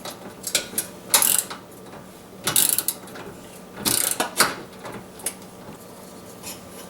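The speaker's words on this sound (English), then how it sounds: "So just remove these two little screws here." A screwdriver removes two small screws from a gas oven igniter, giving a series of close metallic clicks and ratcheting scrapes in irregular bursts with quieter pauses between.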